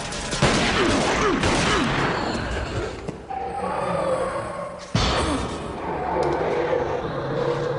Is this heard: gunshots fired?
yes